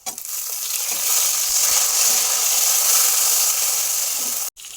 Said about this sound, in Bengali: পেঁয়াজ ভাজা হয়ে গেছে, টমেটো কুচি দিয়ে দেবো।